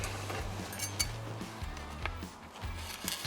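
Sausage is worked off metal skewers with light metallic clinks and scrapes, a handful of small taps at close range over a low background hum.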